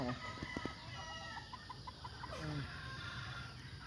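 Young gamecock stags on a Batangas game farm cluck in short repeated calls through a steady open-air background, with some brief higher crowing-like notes mixed in.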